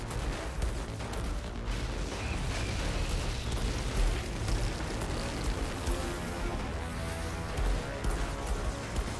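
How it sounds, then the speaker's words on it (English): An enemy explodes amid a dense, continuous din of booming blasts and crackling gunfire in the Outriders Worldslayer shooter, a steady loud wash of combat without clear pauses. "Oh, you're gonna explode in a second."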